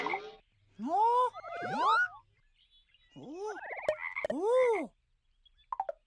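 A children's toy frog croaks in several loud, bouncy, rising-and-falling calls, with short pauses between them and a child's brief exclamation.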